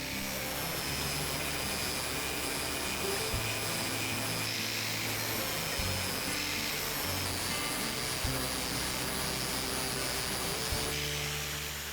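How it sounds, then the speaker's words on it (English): Angle grinder sharpening the bevel on a lawn mower blade, a loud continuous high-pitched whine with a steady roar that holds for the full stretch, shifting slightly in pitch as the load changes. "I'll unclamp the blade, flip it around, clamp it back up, and grind the other bevel"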